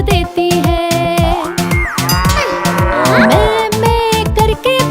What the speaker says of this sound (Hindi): गाय हम करके हमको दूध देती है।